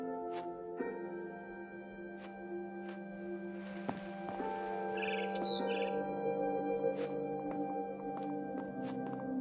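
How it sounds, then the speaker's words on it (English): Barn swallow chirping in the game What Remains of Edith Finch: repeated bright high chirps and short calls over a steady tonal ambient backdrop, fairly close and clear, with no talk. "Then I heard chirping outside my window. It was a barn swallow going back to her nest."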